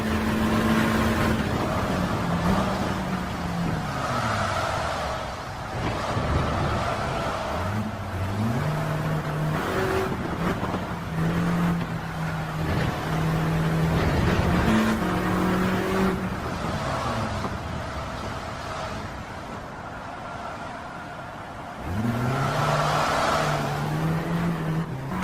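Race car engines in the video game Gran Turismo 7, cars tuned to nearly 600 performance on a wet track, drone steadily throughout with rising and falling revs and gear shifts, loud and continuous with no talk.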